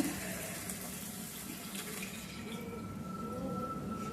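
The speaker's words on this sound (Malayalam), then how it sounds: "ഞാൻ കുറച്ചുകൂടെ ഒന്ന് വെള്ളം ഒഴിക്കുകയാണ്" Water poured from a tap into thinned coconut milk in a kitchen, a soft steady gushing trickle that continues throughout, faint and close, no voices.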